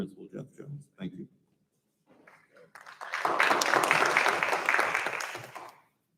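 An audience applauds award recipients at a school PTA council awards night, a sustained wash of clapping for about three seconds that swells and then stops, after brief talk at the start.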